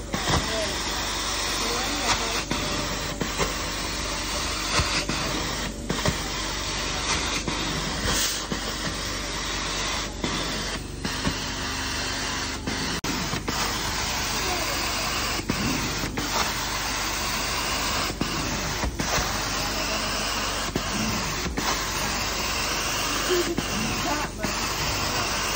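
Steady, loud spraying hiss of a carpet cleaner jetting hot water, continuous throughout with faint voices in the background.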